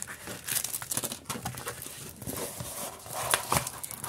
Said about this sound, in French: toujours la même pochette qui fait du bruit